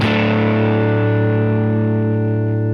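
Electric guitar through a Line 6 Helix amp modeler on a clean hi-fi tone, a single loud sustained chord ringing out with full lows and slowly fading highs, no talking.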